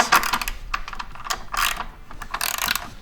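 A wrench ratcheting as a bolt is tightened on a roller ski mount on a Pilot TS ski, crisp clicking bursts in several quick runs, close and loud with no talking.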